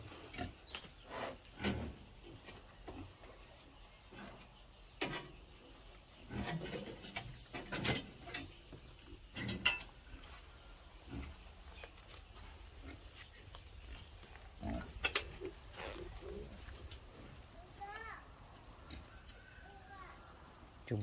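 Wild boar pigs of about 60 to 70 kg grunting at a farm pen, scattered low grunts and snorts at varying distance, mixed with someone talking and some background noise.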